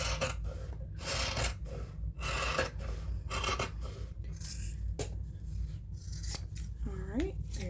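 Scissors cut through the fabric hem of uniform shorts, a run of close rasping snips and rubbing strokes over a steady low hum, with faint breathing and a brief voice near the end.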